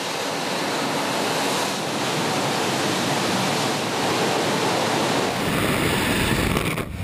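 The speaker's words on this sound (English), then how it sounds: "The water shoots out of every opening in the silo." High-pressure water blasting through every opening of an emptied industrial silo at a power plant, heard as a loud, steady broadband rush and roar like a waterfall, continuous throughout with a slight shift near the end.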